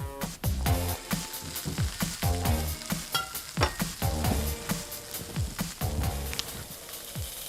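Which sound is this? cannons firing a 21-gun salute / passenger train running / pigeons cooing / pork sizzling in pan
pork sizzling in pan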